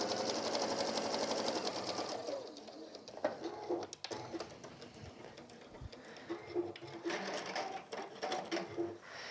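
A sewing machine runs in bursts, stitching the side seams of a gardener's kneeling cushion, its rapid mechanical whir close by, with bird cooing in the background.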